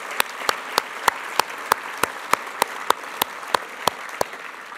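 Sparse, evenly spaced claps ring out in a quiet room at a museum evening event: about fifteen distinct sharp slaps at a steady rhythm, close and clear against a faint hiss.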